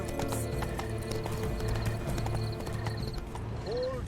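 Horse hooves clip-clop in Witcher 3: Blood and Wine, a run of crisp rhythmic hoofbeats over game ambience, ending with a short whinny near the close.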